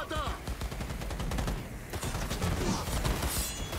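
Heavy automatic gunfire during a firefight in Cyberpunk 2077: Phantom Liberty, played on PC, a dense continuous clatter of rapid shots layered with mechanical clanks, steady and loud throughout the clip with no clear pauses.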